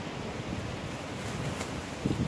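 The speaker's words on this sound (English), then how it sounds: "bloody wind's getting up now" Wind blowing outdoors at a fishing spot, a steady low buffeting roar across the microphone, rising into a few stronger gusts toward the end.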